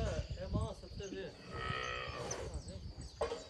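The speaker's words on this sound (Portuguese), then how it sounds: "Como é que dá uma Nelore mansa assim, hein, Chess?" A Nelore cow moos loudly and close by in a drawn-out low call, with people speaking briefly around it in a farm setting.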